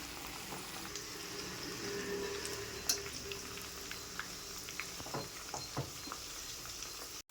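Homemade hair oil with gooseberry and betel leaves simmering in a pot on the stove: a quiet, steady bubbling sizzle with occasional soft stirring clicks, fairly faint and without voices.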